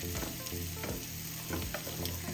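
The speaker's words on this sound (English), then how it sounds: "Give it a stir." Shrimp and vegetables sizzling in a pan during meal prep, a constant loud frying crackle with a few rhythmic scraping strokes of stirring, no voices.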